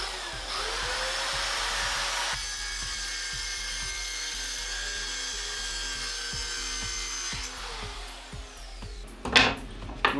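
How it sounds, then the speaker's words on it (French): A small Parkside plunge saw cuts through wood, a steady high whine with a rasping bite running for several seconds, then the motor winds down and a few sharp knocks follow. "Donc, on commence à la scie plongeante."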